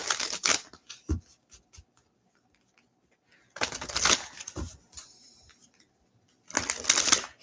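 Oracle cards being shuffled by hand in three crisp, riffling bursts separated by quiet gaps, close and fairly loud, with a few soft taps and handling noises between.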